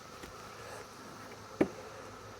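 A steady, low buzzing of many honeybees at a hive hums continuously, with a single sharp tap partway through.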